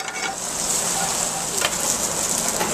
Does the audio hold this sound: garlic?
yes